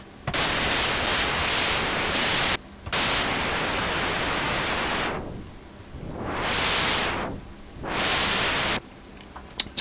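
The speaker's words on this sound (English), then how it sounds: "So fairly smooth noise. Sounds like very, very white noise." White noise from the noise source of a Cherry Audio Surrealistic MG-1 synthesizer hisses loud and smooth, first in short stuttering bursts, then as a sustained wash that later swells and fades twice, with no voices.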